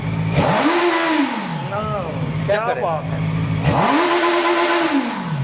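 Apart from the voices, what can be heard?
heavy motorcycle engine revving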